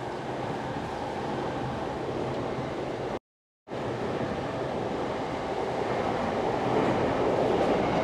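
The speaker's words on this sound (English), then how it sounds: "Here comes a train." A Yamanote line train passes overhead on a Tokyo street between Shin-Okubo and Shinjuku, a loud, continuous rushing roar broken by a brief dropout, swelling slightly toward the end.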